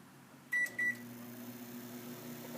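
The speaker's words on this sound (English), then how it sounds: "Old microwave." Old microwave oven running with a low steady hum, broken near the start by two short high beeps in quick succession; quiet and close, with no talking.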